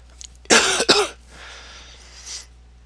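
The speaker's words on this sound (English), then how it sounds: "Maybe I can edit out those coughs" A person gives two harsh, loud coughs close to the microphone in quick succession, followed by a softer breathy rasp of throat clearing.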